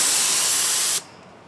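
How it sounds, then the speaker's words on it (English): A spray gun sprays finish onto a guitar body, giving a loud, steady broadband hiss for about a second before it cuts off abruptly, leaving only faint room noise. "Now when spraying, you don't want to hold it at an angle like this."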